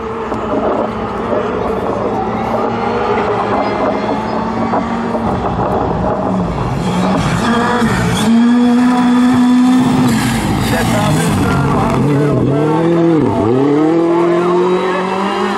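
A rally car races along a special stage at Rally Hedemarken 2016 in Norway, its loud engine rising and falling through gear changes and revs as it passes close by, with tyre noise and a commentator talking over it.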